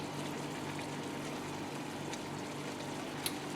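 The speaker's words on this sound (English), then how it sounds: "I'm going to rinse my hand first" Hands being rinsed under running kitchen tap water during seafood cooking, a steady, moderately quiet rush of water with no talking.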